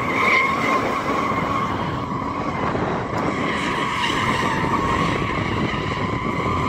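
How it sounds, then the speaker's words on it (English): Several performance cars, a BMW M240i, an Audi RS3 and a Mercedes-AMG CLA45, drifting with continuous loud tire skidding and squealing over steady engine roar, close and sustained. "Let's see what they can do with their superior drift modes."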